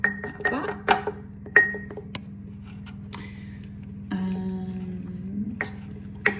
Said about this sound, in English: I'm just going to give that a little mix.